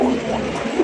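A large fancy Golla pigeon male cooing close by, a short continuous throaty coo with a slight rise near the end, heard alone.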